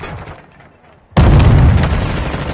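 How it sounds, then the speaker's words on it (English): A grenade blast in a first-person shooter video game booms suddenly and loudly after a quieter moment, then rumbles on for over a second. "Grenade out!"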